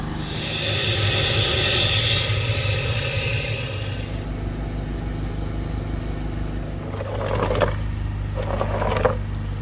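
A loud, steady high-pitched hiss of a high-pressure cleaner spraying a car air-conditioning evaporator runs for about four seconds, then cuts off, leaving a low hum with two brief bursts later.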